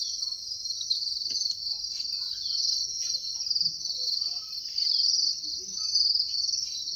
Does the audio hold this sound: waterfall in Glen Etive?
no